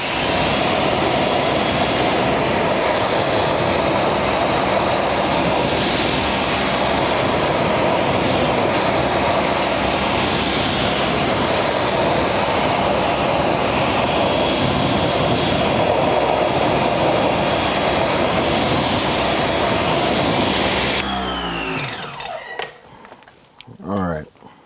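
A steady, loud hiss of water spray rinsing Meguiar's wheel brightener off car wheels runs continuously for about twenty seconds, then cuts off, leaving a few quieter drips and handling noises.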